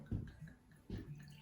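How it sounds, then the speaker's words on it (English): Pinot Grigio wine is poured into a glass, giving two brief, soft splashing gurgles that sound quiet and close. "let's pour a little wine."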